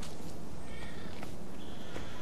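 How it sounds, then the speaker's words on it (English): A cat meows in the video game Guild Wars 2, a short, fairly soft call set against a dense, steady wash of game ambience and background noise. "Cat."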